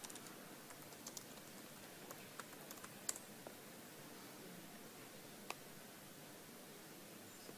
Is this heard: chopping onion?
no